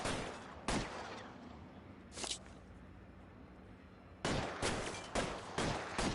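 Gunshots in the video game L.A. Noire: sharp, loud reports heard alone, one early, another a second and a half later, then a quick cluster of several shots near the end over a low ambient hum.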